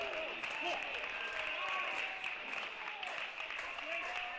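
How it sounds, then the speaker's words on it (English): Audience applause at a men's college tennis match, MTSU vs. SMU: continuous crowd clapping at moderate distance, with a commentator talking over it throughout. "Claps now fill the ATC."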